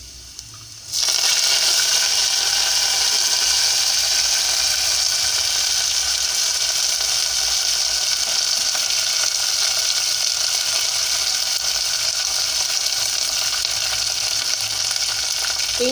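Curry leaves hitting hot tempering oil with onions set off a sudden loud, steady sizzle that starts after a second and crackles evenly to the end, with no talking.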